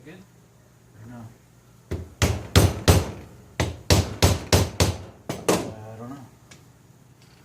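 Metal hammer blows strike cheap screwdrivers driven against a Rochester Quadrajet carburetor on a 350 V-8 in a 1979 Chris Craft boat, a loud run of about a dozen sharp, evenly paced impacts in two bursts, with brief muttered talk before.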